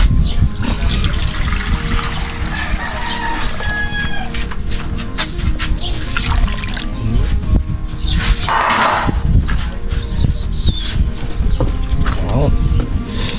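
Water being poured into a cooking pot of corn, a steady watery pour and trickle running through the whole stretch, with kitchen clatter and a voice speaking over it.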